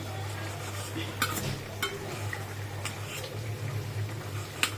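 A ladle scrapes and presses green chillies against a pan, giving scattered metallic taps and clinks over a steady low hum, fairly quiet with no talking.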